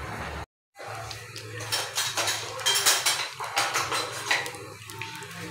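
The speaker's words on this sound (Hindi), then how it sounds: "चलें बस अपनी फिरनी हिलाते हैं" Phirni being stirred in a pot with a metal spoon, giving repeated close clinks and scrapes against the pot in an uneven rhythm after a brief gap, with no talking.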